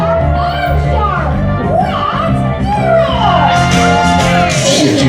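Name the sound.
children clapping, stamping and shouting hooray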